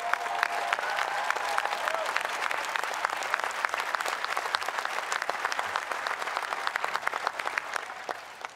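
A large crowd at the grand opening ceremony of the National Museum of African American History and Culture applauds President Barack Obama, with dense, sustained clapping and scattered cheers filling the whole stretch at steady volume.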